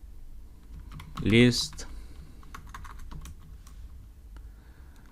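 Close computer keyboard typing code, a quick burst of key clicks and taps, while someone speaks a word over it.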